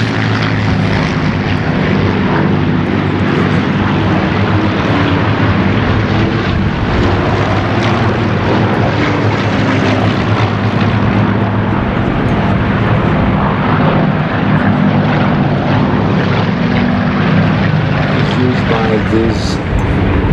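Several propeller aircraft with Rolls-Royce Griffon engines fly nearby, along with one Merlin-engined plane, producing a loud, continuous, throbbing engine drone that stays steady, with a voice speaking over it.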